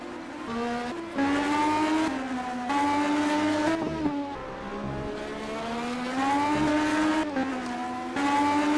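A race car engine in a championship race howls around a twisting circuit, climbing and dropping in pitch through repeated gear shifts, with faint tyre squeal. The engine is loud and steady, with no talk.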